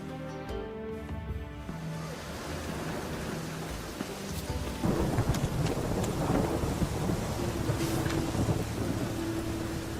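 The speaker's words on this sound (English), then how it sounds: "A storm, damn it." Thunder rumbles through a rainstorm in The Witcher 3, low rolling booms over a steady hiss of rain, building louder midway with a lingering musical tone beneath.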